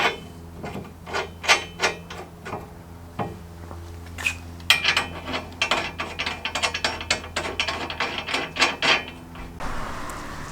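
Ratchet tightening nuts onto bolts of a Kolpin snow plow mount, bursts of rapid metallic clicking in repeated strokes with short pauses between, close and moderately quiet.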